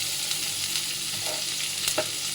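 Chopped onion for kanda poha frying in a pan, with a steady bright sizzle throughout and a few soft scrapes of a spoon stirring, close and continuous.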